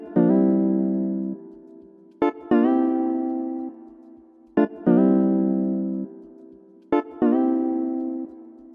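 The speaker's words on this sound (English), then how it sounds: "we have this guitar sound that sounds like this." Jazz guitar preset from the FL Studio Flex plugin plays alone: four plucked, sustained chords or notes, each with a sharp attack and a slow decay, spaced roughly two seconds apart.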